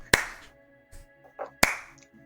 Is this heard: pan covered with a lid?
no